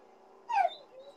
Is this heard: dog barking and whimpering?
yes